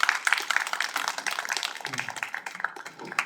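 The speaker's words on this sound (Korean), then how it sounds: "힘찬 박수 부탁합니다." Audience clapping at a 50th anniversary academic forum, dense and energetic hand claps from a seated crowd that surge at the start, then thin out and become more scattered toward the end.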